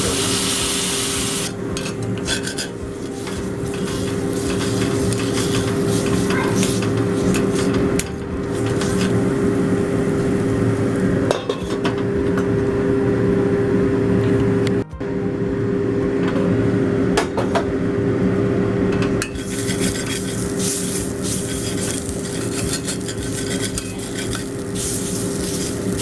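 Spices frying in a pan for a Bengali curd rohu fish curry (doi rui): a steady, close, continuous sizzle with scraping and stirring noises throughout and no talk.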